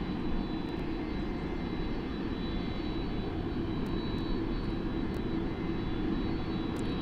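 Jet aircraft engines roar at Sydney Airport near runway 34, a continuous broad rumbling drone at moderate distance, steady throughout with faint clicks on top.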